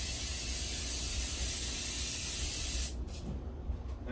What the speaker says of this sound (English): I'm going to use some electric cleaner, clean it out